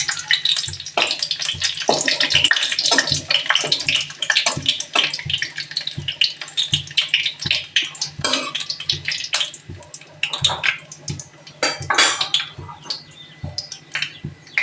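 Torn dried red chillies and black cumin seeds fry in hot oil, giving a steady close sizzle broken by frequent sharp crackles and pops that spit at an uneven rhythm.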